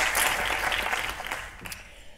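A lecture audience applauds, dense clapping at a steady level that slowly thins and fades over a couple of seconds, no voice over it.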